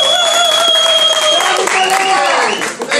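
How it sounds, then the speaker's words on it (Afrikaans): Audience applause at a live comedy show, a dense steady wash of clapping that runs loud throughout, with an MC's voice speaking over it. "A big round of applause for Afrikaner met die twee bene."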